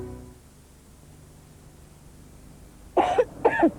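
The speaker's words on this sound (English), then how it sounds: "A nasty cough calls for Vino's cough mixture" Two harsh, close coughs in quick succession near the end of a cough mixture TV commercial, following a few seconds of quiet with faint low hum.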